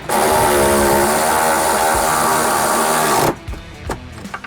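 A cordless electric ratchet on a weak battery whirs loudly and close for about three seconds, then cuts off into a few faint clicks and knocks while a Freightliner front bumper is being fitted.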